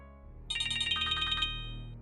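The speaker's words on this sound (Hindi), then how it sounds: "तुम्हारा फोन बजा" A mobile phone ringtone chimes in a short, bright, repeating melodic burst that starts suddenly and stops after about a second, leaving a low background hum in a quiet indoor setting.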